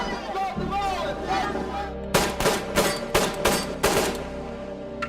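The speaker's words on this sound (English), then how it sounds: "The sound of gunshots and sirens" Gunfire on a Brooklyn street, heard as a quick burst of several sharp cracks in an uneven cluster after talking, fairly loud and close.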